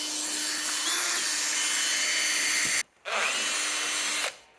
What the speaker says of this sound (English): For the viewers at home, we've deliberately given Jake a blunt drill bit.